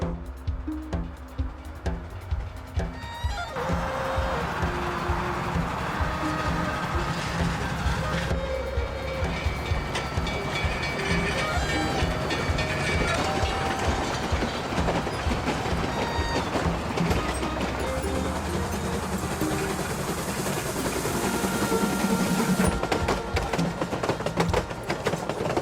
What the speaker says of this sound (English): When the train climbs, the exhaust rhythm thickens clearly because steam pressure must work at maximum to beat gravity.